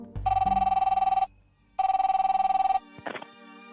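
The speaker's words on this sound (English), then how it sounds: "Can I use that phone to make a call, please?" An old-style telephone bell in the adventure game The Darkside Detective rings in two long trilling bursts with a pause between, followed by a brief click as the receiver is picked up.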